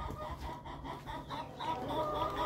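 Domestic teal ducks give soft, repeated clucking calls at moderate distance over a steady background murmur, the calls rising a little toward the end.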